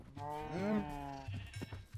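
Sheep bleating in the Minecraft video game, a single wavering bleat, quiet and clear, followed by faint clicks.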